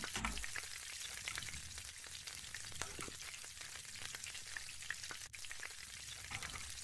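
Food sizzles steadily in a cooking pot inside a WW2 bunker in the video game WW2: Bunker Simulator, a dense, crackling fry with scattered sharper pops, fairly loud and continuous throughout with no voices.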